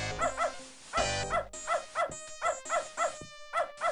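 A dog in the adventure game Beneath a Steel Sky barks and whimpers in a run of short, evenly spaced yelps and whines, close and clear with no talk over it.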